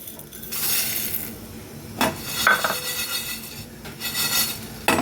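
Mutton spice mixture with cloves being fried and stirred in a pan: bursts of sizzling hiss with scattered clinks and scrapes of a spoon against metal, close and moderately loud, with no talking.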